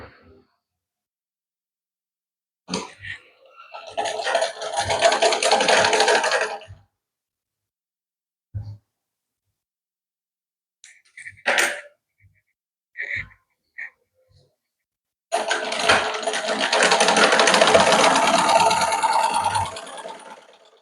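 Two bursts of sewing machine stitching along a blouse outline, each a few seconds of fast, steady rattling, separated by quiet with small clicks and handling noises.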